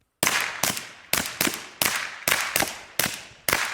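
A suppressed B&T TP9 fires about nine sharp, close reports in an uneven string, each a loud cracking pop with a short decaying tail and no voices over the shots.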